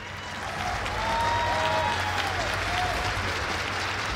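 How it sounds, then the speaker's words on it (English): Audience applause at a Rainbow Six Siege Invitational stage event, a large crowd clapping steadily and building slightly, with faint tonal stage sounds in the background. "keep that applause going for our panelists here"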